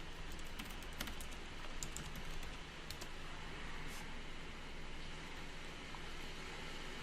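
Computer keyboard being typed on while a web address is entered, faint scattered key clicks over a steady background hiss, no talking.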